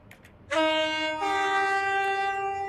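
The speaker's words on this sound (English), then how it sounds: "This is my favorite horn on this train." A loud, sustained train horn from the video game Stepford County Railway blares from start to finish, its steady harmonic tone shifting pitch partway through, with no one talking.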